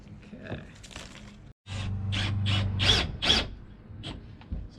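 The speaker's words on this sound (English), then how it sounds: "So we're setting the screws here now." A power tool drives screws into a curved panel on a full-height teardrop camper build, giving a few short whirring bursts, close and moderately loud, separated by pauses and small handling knocks.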